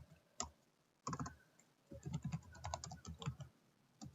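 Bursts of typing on a computer keyboard, quick clusters of crisp key clicks separated by short pauses, close and fairly quiet, with no talk.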